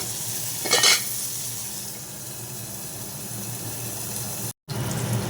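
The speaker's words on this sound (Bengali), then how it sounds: "তেলটা গরম হয়ে গেছে দিয়ে দিলাম বেগুনগুলো বেগুনটা ভাজা ভাজা হবে" Eggplant pieces frying in hot oil, a steady moderate sizzle with a brief louder crackling burst near the start and a short silent gap before the end, with no voices.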